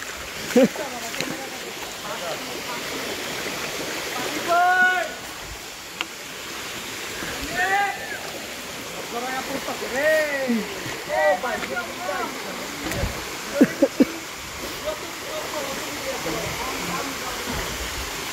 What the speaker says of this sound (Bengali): সে একটা ঝর্ণা